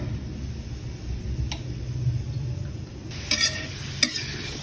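Pork bones stir-roasting in a pan, with a low, soft sizzle under scraping stirs and a few sharper clicks and knocks of the utensil near the end.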